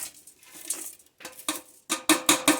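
Dried horse chestnuts are chopped for soap, giving a run of sharp, crisp chopping impacts close up, sparse at first and then faster and louder.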